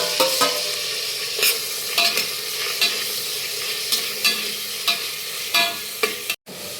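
Shallots and garlic fry in a pan with a loud, continuous sizzle, punctuated by regular scraping strokes of a spoon stirring them close up.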